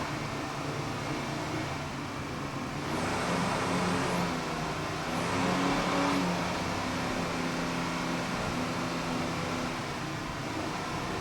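A 38-foot Fountain powerboat with twin Mercury 500-horsepower inboards throttling up in a race, a continuous loud engine drone that rises in pitch and intensity through the middle.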